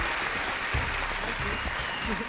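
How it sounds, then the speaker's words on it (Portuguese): Applause for a teacher on a Brazilian TV variety show, steady dense clapping filling the whole stretch with a faint crowd murmur underneath. "Salva de palmas para a professora."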